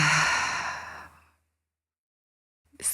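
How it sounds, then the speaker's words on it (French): A deep, audible exhale during a yoga nidra relaxation session, one long breathy sigh fading into silence, followed by the start of another breath close to the microphone. "Laissez la respiration prendre de la place, même devenir audible"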